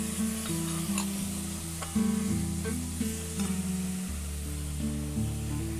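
Masala with cumin, coriander powder, yogurt and ground peanuts sizzles steadily in a pan while a spoon stirs it, giving soft intermittent scraping over a continuous close frying hiss, with no speech.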